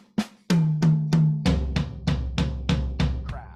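Eighth-note triplet drum fill moving between rack tom and floor tom, starting with a few higher tom hits and then a steady run of deeper booming strikes with ringing decay, close and loud with no voices.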